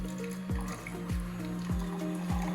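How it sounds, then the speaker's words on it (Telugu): Hot water runs from a tea and coffee vending machine's dispenser as a steady trickling pour, with a low machine hum and a rhythmic pulse from the pump repeating about every half second. "హాట్ వాటర్ నొక్కితే ఓన్లీ హాట్ వాటర్ వస్తుంది"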